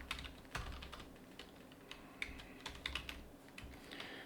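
A computer keyboard is typed on in short irregular bursts, each keystroke a crisp, fairly quiet click heard alone without speech.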